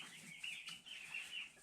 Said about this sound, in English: if you do hear any noises, it's probably from the turkeys.